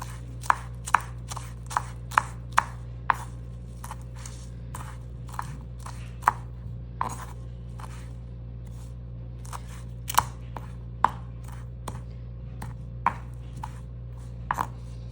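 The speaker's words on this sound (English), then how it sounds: "Next, cilantro. I just cut the head off like that." A knife chopping fresh cilantro on a cutting board for a flatbread, a series of sharp, crisp cuts spaced irregularly and sometimes in quick pairs, close and loud over a steady background hum.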